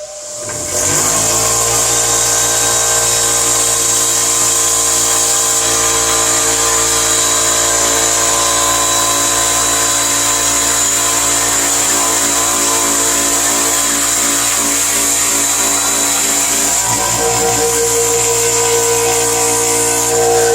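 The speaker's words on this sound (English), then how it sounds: "I am going to grind the edge of that socket down so that it will fit down inside of the hole" A power tool grinds down the edge of a metal socket during a Tillotson HD carburetor rebuild, making a loud, steady, continuous whine that holds unbroken for about twenty seconds close to the mic, with no talking.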